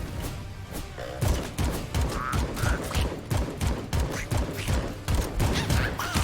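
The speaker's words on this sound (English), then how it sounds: "Oh god, I got sniped." Gunfire in the video game AK-xolotl, a rapid run of sharp repeated shots and impacts over busy game sounds, loud and close, no talking.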